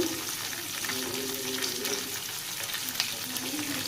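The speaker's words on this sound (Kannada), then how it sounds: "ಇವಾಗ ಚೆನ್ನಾಗಿ ಮಿಕ್ಸ್ ಮಾಡೋಣ." Ridge gourd palya being stirred and fried in a pan makes a continuous close sizzle with scraping and mixing sounds, steady in level, no speech.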